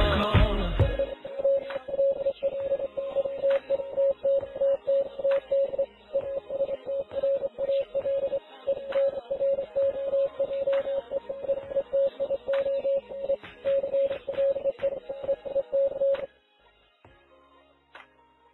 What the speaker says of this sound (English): there's a secret embedding of Morse code which can be heard